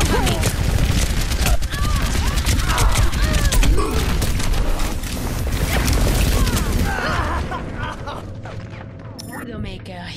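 Overwatch rocket barrage: a dense, relentless volley of rapid-fire rocket blasts and crackling impacts with mechanical clatter, loud and continuous before thinning toward the end, with game voices shouting over it.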